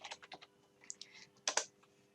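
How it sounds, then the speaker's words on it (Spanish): Keyboard shortcut keys get pressed on a computer keyboard during an Excel spreadsheet task, a handful of crisp, quiet clicks in an uneven cluster, then two sharper taps near the end, with no voices. "Control Shift, flechita hacia abajo para marcar toda la columna."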